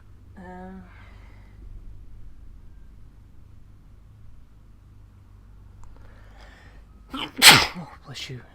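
A single sharp human sneeze bursts out loudly near the end, preceded by a faint gasping inhale and a brief low vocal sound over quiet room noise.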